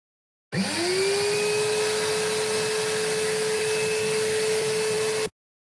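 A vacuum cleaner starts abruptly and runs at a steady pitch, its motor whine rising briefly before settling into a constant loud airflow roar for about five seconds, then cuts off suddenly.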